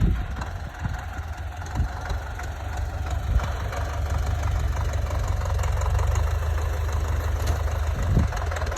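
A tractor engine idles steadily at a potato-planting site, a continuous low rumble with a faint knocking pulse holding at an even level throughout, with no talk over it.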